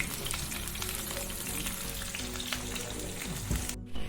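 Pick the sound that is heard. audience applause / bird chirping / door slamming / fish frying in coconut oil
fish frying in coconut oil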